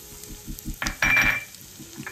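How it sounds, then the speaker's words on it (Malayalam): Dry fruits such as cashews and almonds roasting in ghee in a pan make a soft sizzle, with stirring scrapes and a louder burst of frying about halfway through. "ഈ ഡ്രൈ ഫ്രൂട്ട്സ് ഒക്കെ ഒന്ന് വറുത്ത് അതിനകത്ത് ചേർക്കും."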